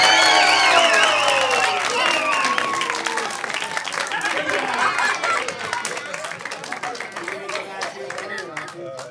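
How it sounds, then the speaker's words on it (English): Audience applause and cheering at a family-friendly comedy show, a loud dense burst of clapping that gradually thins out, with a crowd of voices and chatter mixed in. "We're going to give them a huge round of applause."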